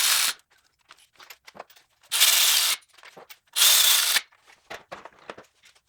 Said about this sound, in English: We'll get them snugged down with the ratchet